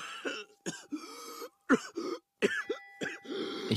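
A man coughs repeatedly in a radio play, a series of harsh, close coughs and throat clearings in short bursts separated by brief pauses.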